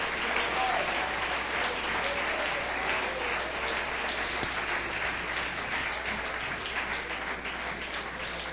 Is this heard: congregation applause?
yes